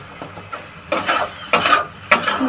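Spices with turmeric and salt are stir-fried in a pan, giving three or four loud, close stirring scrapes over a low sizzle, with no voices.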